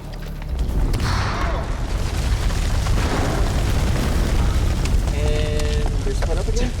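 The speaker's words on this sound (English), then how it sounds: "Grenade!" A grenade bursts in the video game House of Ashes: a loud, rumbling boom with debris that swells and lingers for several seconds, followed by clattering mechanical sounds, while voices shout over it.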